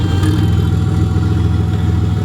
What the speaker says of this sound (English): So we're about to drop the car back down and start it up and see if it works.